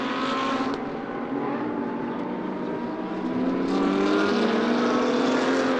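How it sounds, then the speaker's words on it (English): Lamborghini GT2 race car passing at speed on the Paul Ricard circuit, a loud continuous engine roar with shifting pitch that swells slightly toward the end as it goes by. "There's 27 going through, which is the Mauro Casadei Lamborghini"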